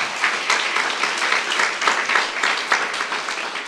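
A church youth-service congregation claps together in a steady burst of applause lasting a few seconds, dense and close throughout.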